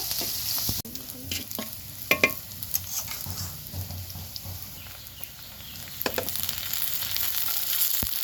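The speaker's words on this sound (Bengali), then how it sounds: "এই তো তেলের মধ্যে দিয়ে দিলাম পেঁয়াজ কুচি ও কাঁচামরিচ চেরা" Chopped onion and slit green chilies fry in hot oil in a home kitchen, giving a steady close sizzle with scraping stirs and a few sharp clinks, no talking.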